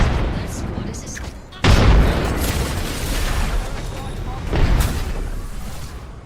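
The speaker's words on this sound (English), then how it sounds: "Tossing a frag" A frag grenade detonates in an Apex Legends match, a loud booming blast that cuts in suddenly and rumbles on, followed by a second heavy thump amid continuous gunfire and game noise.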